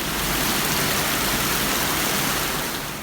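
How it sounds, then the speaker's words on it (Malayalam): Heavy rain pours in a dense, steady, loud hiss with no break, easing slightly at the very end, and no voices. "നല്ല അടിപൊളി മഴയായിരുന്നു കേട്ടോ."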